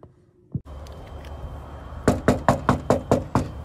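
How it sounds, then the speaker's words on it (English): Knuckles rap on a door about eight times in an even rhythm, loud and close against a low background rumble, after a single softer thump. "I don't know if I knocked."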